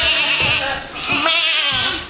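A preschool child imitates a sheep, giving a loud, close, quavering "baa" that wobbles continuously for about two seconds, with no background noise.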